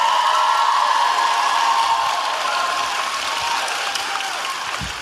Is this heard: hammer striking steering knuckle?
no